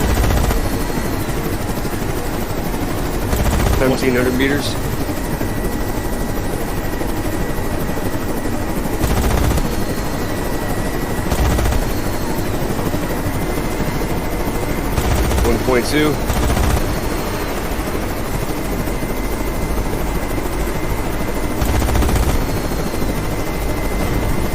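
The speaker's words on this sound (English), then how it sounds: "Auto guns sound good." Automatic guns fire in the naval combat game Carrier Command 2, in repeated sharp bursts spread across the stretch over a constant engine and rotor drone, with people talking throughout.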